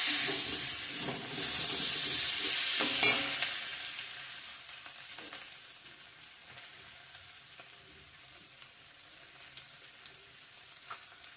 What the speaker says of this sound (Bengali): অল্প একটু জল দিয়ে কষিয়ে নিচ্ছি